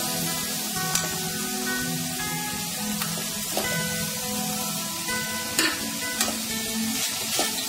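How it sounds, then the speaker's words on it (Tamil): Banana flower stir-fry with grated coconut sautés in a pan with a soft, steady sizzle, broken by occasional sharp clicks of a spoon stirring against the metal. No voices. "தேங்காய் சேர்த்து அப்படியே ஒரு நிமிஷம் நல்லா வதக்கிட்டு சாப்பிடலாம்."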